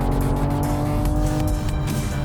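A 2021 BMW M440i accelerating hard in Sport Plus mode, its engine a loud, sustained droning roar heard from inside the car without a break.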